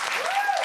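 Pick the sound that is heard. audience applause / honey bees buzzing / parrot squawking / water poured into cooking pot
audience applause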